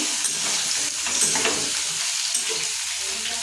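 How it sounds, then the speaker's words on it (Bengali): Papaya and potato pieces frying in hot oil until browned, a steady close sizzle with occasional stirring scrapes, no talk. "পেঁপেগুলো দিয়ে ভালো করে লাল লাল করে আরও ভেজে নেব।"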